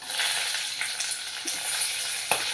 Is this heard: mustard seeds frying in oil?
yes